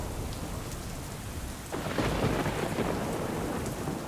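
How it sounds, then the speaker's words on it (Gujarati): Heavy monsoon rain pours steadily over Surat in Gujarat, and a deep rumble of thunder rolls in midway and swells the roar. "કતારગામ વરાછા વિસ્તારમાં ક્યાંક ધોધમાર વરસાદ તો ક્યાંક ધીમી ધારે વરસાદ જોવા મળી રહ્યો છે"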